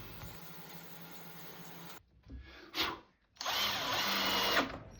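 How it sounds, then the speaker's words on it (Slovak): A power saw cuts through wood in loud sustained runs, a continuous buzzing whine that drops out briefly around a sharp mid-clip burst before resuming strongly, with no speech. "A tam, kde ponorná píla nedosiahne, použijem pásovú pílu."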